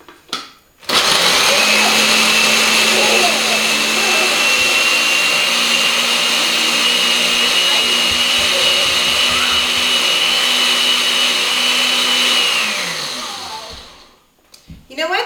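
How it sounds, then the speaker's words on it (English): Mini food processor attachment on a basic-brand blender chopping nuts with a little water for green onion dip: a loud, steady motor whine and grinding roar that starts abruptly, runs about twelve seconds, then spins down. "even though it's just a mini food processor on your basic brand blender, it's doing pretty good. It's chopping those nuts right up."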